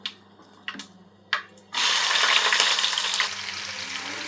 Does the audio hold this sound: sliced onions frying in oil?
yes